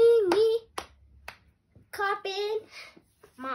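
A few sharp hand claps keep time along with a child's sung melody, with gaps of quiet between phrases.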